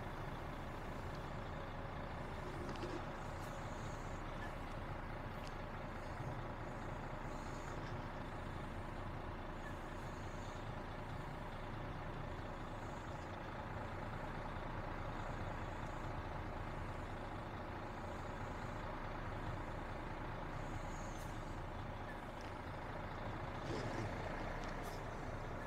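Heavy trucks maneuver together on driving test tracks at a truck licence training ground, a continuous diesel engine drone with occasional hisses and faint beeps spread across the yard.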